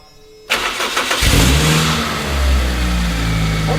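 A cheap £500 car's engine cranks and catches after a short quiet pause, then revs up loudly and settles into a strong, steady running note with rising and falling throttle blips, close by with no talking.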